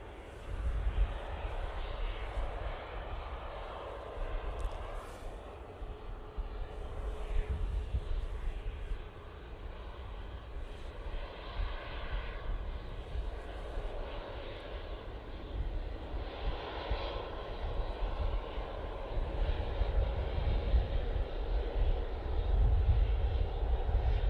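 A fixed-wing airliner landing at Manchester Airport gives a continuous rumbling engine roar that builds toward the end, heard alone at a moderate distance with no talking.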